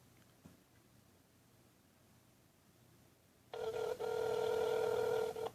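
After a few seconds of quiet room noise, a loud telephone ring tone starts and sounds steadily, heard through the speakerphone of an LG G2 on Sprint.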